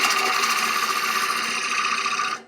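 A woodturning gouge cutting a wooden bowl spinning on a lathe, making a loud, steady rasping and scraping whir that runs continuously before cutting off abruptly at the end.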